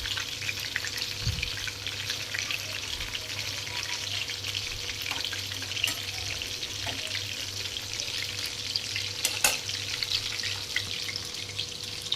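Frozen fries fry in hot oil with a continuous dense bubbling sizzle, steady and close, with a faint low hum beneath and a few brief clicks, no voices.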